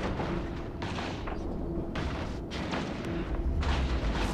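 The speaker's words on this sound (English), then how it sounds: "based on all of these effects, most of us are using autocannons." Autocannon fire rumbles through a 50-versus-50 fleet battle in the space game EVE Echoes, a dense, continuous stream of booming bursts with no talk over it.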